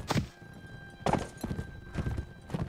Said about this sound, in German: Die hat hier auch ein schönes Pferd.